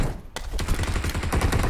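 Enemy gunfire in a video game comes as loud, rapid bursts of shots that rattle almost continuously after a brief opening lull.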